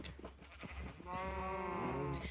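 Sheep bleating in Minecraft with the Cobblemon mod, a single drawn-out wavering bleat rising in the second half of the clip, clear and fairly close, with no talking over it.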